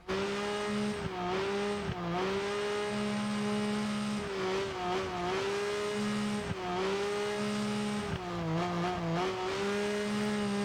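A snowmobile engine in a video game whines high-pitched and revs continuously, dipping and climbing as throttle changes, with no one talking over it.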